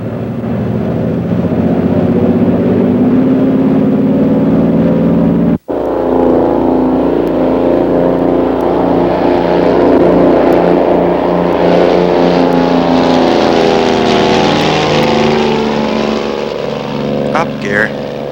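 Twin Bonanza twin-engine aircraft taking off from runway 25 left at Los Angeles, engines roaring loud and steady through the takeoff roll with a brief break early on, radio voices heard over the engine noise.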